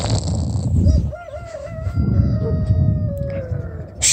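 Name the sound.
rooster crowing on a farm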